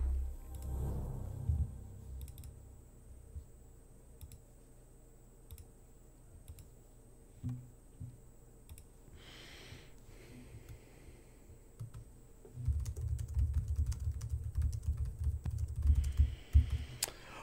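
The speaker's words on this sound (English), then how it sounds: "I play this game with mouse and keyboard. You're going to hear me clicky clackety" Computer keyboard typing and mouse clicks at a gaming setup, with sparse clicks early and then a dense, rapid burst of clattering keystrokes near the end, close and fairly quiet.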